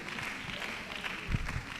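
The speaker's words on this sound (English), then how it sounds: "Please, a round of applause for her as she steps forward." An audience claps through an annual seminar, a steady wash of applause from a hall full of people with faint voices underneath and a slight swell near the end.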